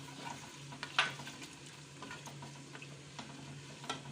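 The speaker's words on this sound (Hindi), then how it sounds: "उसमें हम अपना प्याज डालेंगे और हम अपने प्याज को फ्राई करेंगे।" Chopped onions frying in hot oil on a stovetop, a soft steady sizzle with a brief stirring scrape and faint clicks, heard alone without talk.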